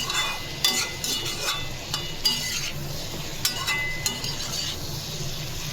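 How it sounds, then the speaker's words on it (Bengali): Lentil fritters (dal bora) fry in a pan with a steady, close oily hiss, punctuated by regular scraping and light clinks as they are turned. "তার জন্য আমি বড়াগুলোকে আলাদাভাবে ভেজে নিই"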